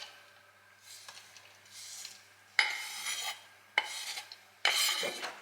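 A knife working through sun-dried tomatoes in a home kitchen, heard as a few separate scraping, rasping strokes on a board with quiet gaps between them, close and moderately loud.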